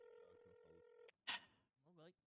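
A phone rings in a video game roleplay with a loud, sustained electronic ring tone about a second long, followed by a sharp burst and then a voice speaking.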